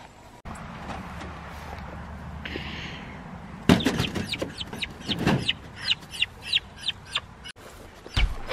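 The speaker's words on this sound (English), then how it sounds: "we'll get the turkey in here and then we'll get the let the chickens out." Free-ranging chickens let out of their coop, a series of close, repeated clucks and squawks in uneven bursts after some rustling and clatter, with no talk.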